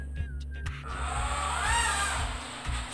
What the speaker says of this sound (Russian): Слушай, такие двигатели мощные.